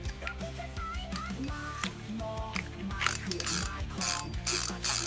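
A rapid mechanical clicking ratchet from a Line Winder AFS835i fishing reel clicker, steady and close, with bursts of faster clatter as the spool turns.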